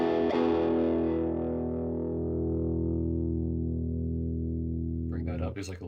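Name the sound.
electric guitar through overdrive pedal, low-end knob turned down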